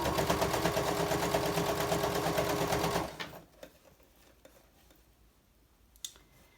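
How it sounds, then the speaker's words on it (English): A sewing machine stitches the bottom edge of a quilted placemat in a steady, loud rapid whir for about three seconds, then stops, leaving quiet handling noises and a small click. "I'm sewing down the bottom edge, the last edge of my placemat here."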